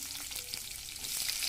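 Tempering seeds crackle and sizzle in hot oil, making a bright, dense frying hiss with scattered pops. It is close and continuous, and no one speaks.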